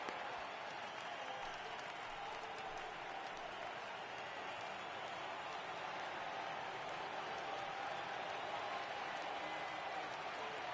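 A stadium crowd of over 39,000 in MLB The Show 18 roars and applauds in a steady, even wash of noise, moderately loud and sustained without breaks.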